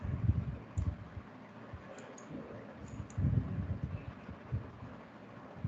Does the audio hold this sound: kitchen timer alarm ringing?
no